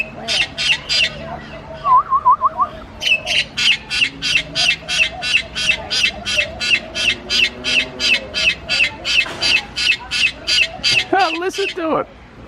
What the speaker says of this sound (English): Polytelus alexandria. Named in honor of Queen Alexandra.